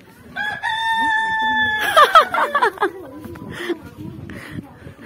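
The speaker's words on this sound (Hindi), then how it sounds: "मुर्गियां भी खेल रही हैं।" Chickens cluck and a rooster crows nearby on a village house path, with people talking and calling out over the birds throughout.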